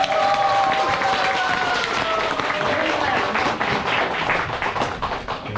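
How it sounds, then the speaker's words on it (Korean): A lecture audience at a Korean university literature club anniversary talk breaks into loud, dense applause, steady hand clapping that fills the room and slowly thins toward the end. "내 인생에 빛나는 인생을 위해서 큰 박수를."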